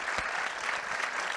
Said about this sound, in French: Ça s'applaudit peut-être.